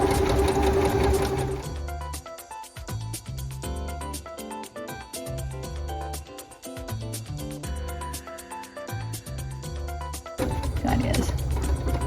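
A sewing machine stitches and back-stitches a fabric jewelry pouch, with a loud close motor whir and a rapid needle chatter that runs steadily and briefly changes pace, with no talk.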